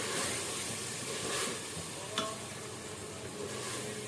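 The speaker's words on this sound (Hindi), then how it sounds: "इसके साथ भूनें" Chopped onions frying with ginger-garlic paste in a pan for mutton paya, a soft steady sizzle with stirring scrapes and one brief sharp clink, quiet and without talk.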